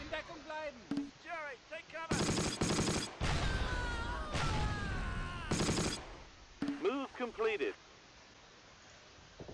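In the wartime strategy game Close Combat: Last Stand Arnhem, sharp bursts of gunfire and mortar shots crack out in several loud clusters, interleaved with someone talking and brief stretches of quieter rumble.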